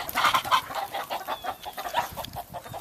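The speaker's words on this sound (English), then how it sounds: "Look at those chickens." Chickens cluck in short, repeated bursts, fairly close and moderately loud, with no talking.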